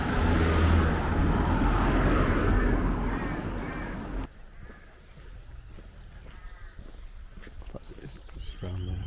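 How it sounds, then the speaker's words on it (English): Cars drive up a hill along a bridleway in the Yorkshire Dales near Malham, a loud, close rush of engine and road noise that fades after a few seconds into quieter outdoor ambience. "Cars going up the hill"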